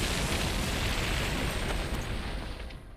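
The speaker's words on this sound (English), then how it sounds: "For a bomb the size of a cake, its explosion power is no joke." An explosive pie from the SpongeBob cartoon detonates in a huge, roaring blast that rumbles on for seconds and slowly fades.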